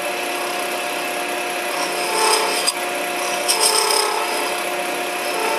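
A hand tool used as a scraper rasps steadily against a spinning acrylic piece on a lathe, giving a continuous dry scraping hiss with a few brief swells and one sharp tick, with no voices.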